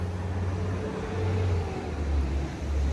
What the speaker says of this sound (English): Another truck with noise.